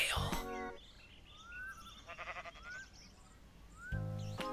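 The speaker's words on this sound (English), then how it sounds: "That is a sheep." A Minecraft sheep gives two loud bleats at the start and near the end, with chirpy tones and faint noises between them. No one speaks.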